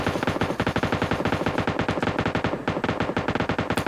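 Rapid automatic gunfire from the mobile battle-royale game PUBG Mobile rattles in a dense, loud, continuous stream, with only one brief gap in the string of shots.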